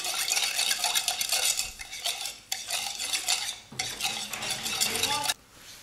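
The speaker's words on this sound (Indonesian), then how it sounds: "Kemudian kita aduk-aduk sampai susu, soda kue, dan ragi instan tadi bercampur" Batter of milk, baking soda and instant yeast for corn dogs being stirred in a bowl, a steady run of scraping, clinking utensil strokes with brief pauses, close and fairly loud, no talking.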